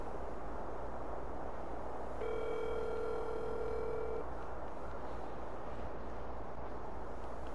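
A phone dial tone sounds while a call is placed back to someone, a steady flat electronic tone that holds for about two seconds over a low background hum, with no talking.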